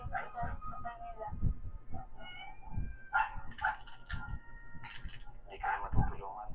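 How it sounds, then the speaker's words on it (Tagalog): A hungry cat meows several times, close by, mixed in with people talking and some background noise. "Imeng, gutom na rin ang pusa, oh"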